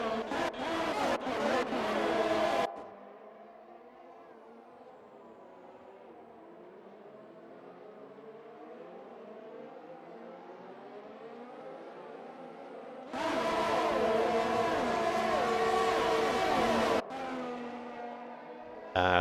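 Racing car engines in RSF1 league racing at Hungary whine and rev at high pitch, swelling louder and fading as cars pass, in several abrupt bursts separated by a quieter stretch.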